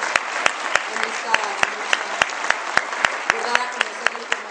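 Steady applause from a crowd, dense clapping throughout with a few sharper, louder claps standing out at regular intervals.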